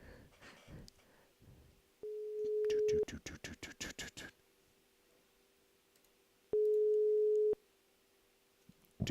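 A telephone busy signal sounds as steady tone bursts, broken by a rapid series of short beeps, with faint background murmur.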